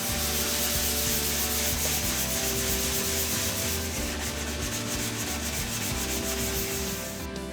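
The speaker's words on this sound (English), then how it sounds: "Watch how fast I can take this down just with a hand sander." A hand sander rubs steadily across a Corafoam HDU sign, scraping off slag and high spots with a continuous, close, dry rasping that runs the whole time with no talk.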